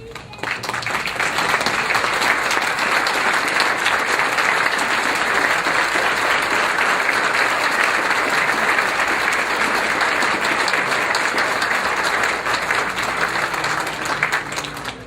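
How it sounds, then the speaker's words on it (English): Sustained, dense applause from a standing audience honouring committee members at an Italian American museum awards ceremony, a loud even roar of many hands clapping for about fifteen seconds. "let's give a round of applause to all the committee members"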